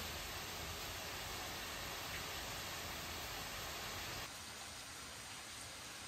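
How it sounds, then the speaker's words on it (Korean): A waterfall pours into a snowy outdoor hot-spring bath in Japan's Nyuto Onsen area of Akita, making a constant, even rushing hiss that softens slightly near the end. "폭포가 주는 시원한 소리와 눈 쌓인 겨울의 정취를 그대로 즐길 수 있기에"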